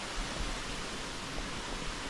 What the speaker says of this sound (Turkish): Sanırım burada bir şelale var. Hemen şurada yakında bir yerde. Sesi geliyor zaten böyle ufaktan gürül gürül